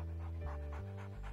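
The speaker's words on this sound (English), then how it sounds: "Maxwell is a very special dog." Cartoon guide dog panting in quick, steady breaths, close and fairly loud, with a soft musical score underneath.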